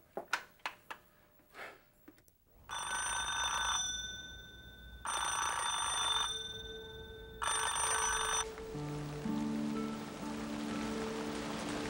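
An indoor telephone rings in three long bursts with pauses between, fairly loud over a steady rain-like hiss, with soft music tones entering afterward.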